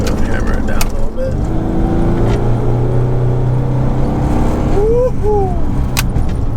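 A Nissan 300ZX Z32 accelerating hard: a loud, close engine drone rising in pitch through the gears from inside the cabin, with a driver talking over it.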